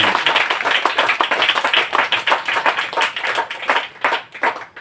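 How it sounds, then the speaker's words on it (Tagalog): A church congregation at a praise and worship service claps together, a steady, dense wash of hand claps filling the room for about five seconds with no voices on top. "Muli nating palakpakan ng ating Panginoon."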